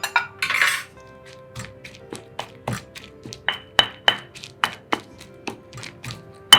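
Curry paste ingredients with sugar pounded together in a mortar for an old-style Thai curry, a steady run of sharp, close knocks about every half second, each with a faint clink, no talking.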